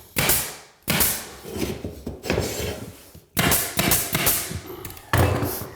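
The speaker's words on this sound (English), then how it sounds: "we're surface nailing" Hammer blows driving nails through closet trim into a wall: a series of sharp, close wooden thuds and knocks in irregular bursts, with scraping and handling noise between strikes and no talking.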